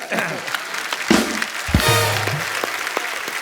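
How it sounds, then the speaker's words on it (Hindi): A studio audience claps for Priyanka on a comedy show, scattered applause under voices and studio sounds, rising briefly and then thinning out. "प्रियंका के लिए जोरदार तालियां।"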